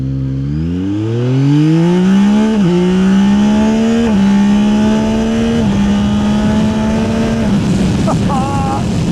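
A Yamaha Tracer 9 GT+ sports-tourer motorcycle accelerates at full throttle in D+ riding mode. The engine note climbs loudly and steadily through several gears, with short dips at each shift, heard close and continuous.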